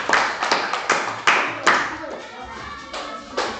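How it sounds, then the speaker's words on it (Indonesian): A small classroom group claps for a student group in a mathematics lesson, with loose, uneven bursts of hand claps rising and fading in a ragged rhythm, close and fairly loud. "Tepuk tangan untuk kelompok."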